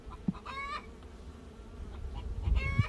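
Out in a backyard beekeeping yard, a hen gives a drawn-out egg-laying cackle in a couple of short bursts, faint in the distance beneath the steady hum of buzzing bees.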